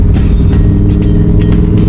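Red Lamborghini Huracan Evo cruising slowly, a loud close engine rumble holding a steady low drone with faint passing hiss, no voices.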